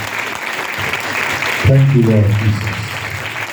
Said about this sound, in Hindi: आइए खुदा के जलाल के लिए जोरदार ताली दें।